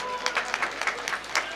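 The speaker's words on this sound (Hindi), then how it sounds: "जोरदार तालियों से" An audience at a Saraswati Puja gathering applauds to welcome a guest, a few seconds of scattered, moderately loud clapping in uneven bursts.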